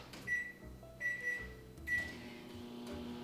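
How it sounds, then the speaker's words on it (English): A microwave oven heating milk gives a few close beeps and door clunks, followed by the low steady hum of the oven running. "this I'm gonna pop in the microwave to warm it until it's steaming"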